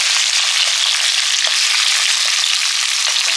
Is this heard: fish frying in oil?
yes